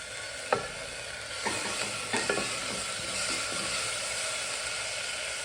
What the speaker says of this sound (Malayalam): അതിലേക്ക് ജിഞ്ചർ ഗാർലിക് പേസ്റ്റ് ആഡ് ചെയ്യുക.